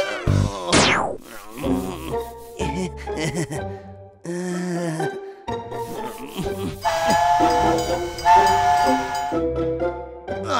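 A cartoon train in a children's animation: a whistle shrieks, followed by hissing steam and a series of chugging, clanking sounds amid other busy, shifting noises.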